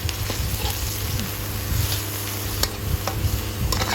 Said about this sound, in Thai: เราก็จะผัดจนหมูสับอะค่ะ สุกเลยนะคะ